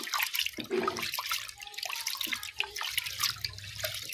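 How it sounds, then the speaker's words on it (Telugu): Water sloshes and splashes close by as toor dal lentils are swirled and rinsed by hand in a pot, a steady wet churning with small drips. "వాటర్ పోసి బాగా కడుక్కోవాలి"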